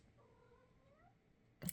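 A pet cat meows faintly in the background, with a soft drawn-out call followed by a louder, brief cry at the end.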